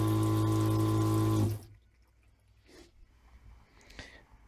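Tap water runs steadily from a pump-fed sink faucet in a pop-up camper converted to a hardside, loud and close for about a second and a half before being shut off, leaving faint handling noises.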